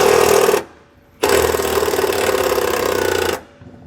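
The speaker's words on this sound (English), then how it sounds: "I'm going to use a self-tapper to drill right into the frame" Power drill driving a self-tapping screw into a metal travel trailer frame: a loud, close whining buzz, a brief pause, then a longer steady run that stops abruptly.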